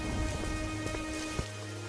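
Heavy rain pours steadily at night, a dense constant hiss of falling water, with a few louder drops and knocks standing out.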